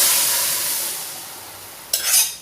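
A steady hiss of frying fades slightly, then a sudden burst of sizzling as boiled vegetables are tipped into a hot kadai for mor kuzhambu.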